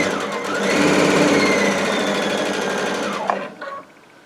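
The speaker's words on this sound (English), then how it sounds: "we're going to be sewing through all the thicknesses now" A Baby Lock Altair sewing machine stitches binding through all the thicknesses of a quilt to its back, a fast, even mechanical whir that holds steady, then slows and stops near the end.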